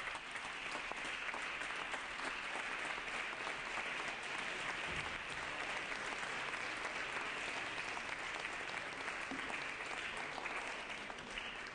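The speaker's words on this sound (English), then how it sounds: "Please welcome them and give them a round of applause." Assembly members on a legislative floor give scholarship winners a round of applause, sustained, dense clapping from a large room that holds steady for the full stretch without any voice over it.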